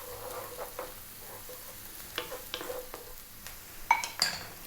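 Onion and garlic fry in a hot pan over above-medium heat, a faint, quiet sizzle with scattered clinks and scrapes of stirring, growing a little louder near the end.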